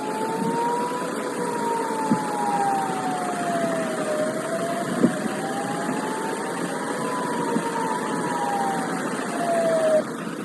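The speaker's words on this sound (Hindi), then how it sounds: "इन रॉकेट हमलों के बाद इसराइल के बड़े इलाकों में चेतावनी वाले सायरन भी सुनाई दिए हैं।" A warning siren wails across Israel after rocket attacks, its pitch slowly rising and falling in long sweeps, heard from a distance over steady background hum with a few faint knocks.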